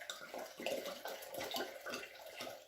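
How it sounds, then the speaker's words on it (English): Wine poured from a bottle into a cooking pot while making coq au vin, a steady splashing liquid pour running continuously for a few seconds, close up. "I'm going to pour a little wine in here, or a lot."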